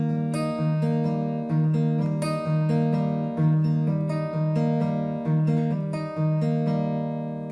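Acoustic guitar fingerpicking an alternating-thumb pattern at full speed, a steady rolling stream of plucked notes with ringing sustained bass and treble strings, clear and close with no talking.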